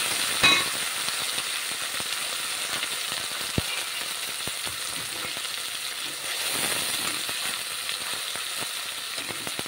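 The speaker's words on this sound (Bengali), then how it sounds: "আলুটা ভাজার সময় একবারে মাছের তেলটাও দিয়ে দেওয়া হবে।" Potatoes fry in oil together with fish oil, producing a continuous close sizzle with scattered crackles and the occasional clack of a utensil against the pan.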